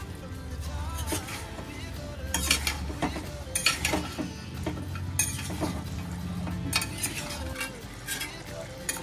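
Spiced meat is stirred in a pan over a continuous sizzle, with repeated scraping and clinking of a utensil against the pan, close and fairly busy.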